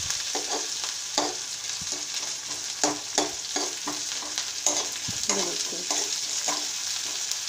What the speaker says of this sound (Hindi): इसको थोड़ी देर चलाते जाएंगे क्योंकि हमारी कढ़ाई काफ़ी गर्म हो चुकी है